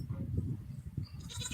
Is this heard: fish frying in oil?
no